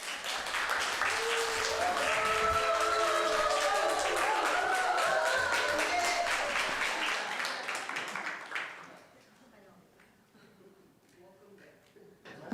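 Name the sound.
applause welcoming the pastor to the pulpit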